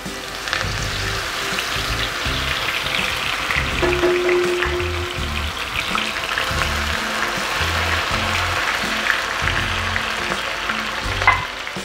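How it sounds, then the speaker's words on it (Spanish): Tuna pieces frying in hot oil for tostadas de atún, a steady close crackling sizzle with soft stirring and a few brighter pops, no voices over it. "Vamos a freírlo de a poco. Ya tengo nuestro aceite a punto"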